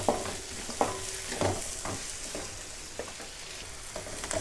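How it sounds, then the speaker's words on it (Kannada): Onions frying in a pan for a chicken gravy masala, a moderate steady sizzle punctuated by repeated spatula scrapes and taps at an uneven rhythm, close by with no voices. "ಈರುಳ್ಳಿ ಫ್ರೈ ಆಂಡು"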